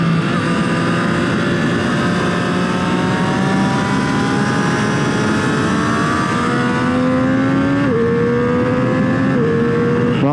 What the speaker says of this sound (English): I've taken a number of motorcycles through that corner, and none of them have felt nearly as composed as this Street Triple does.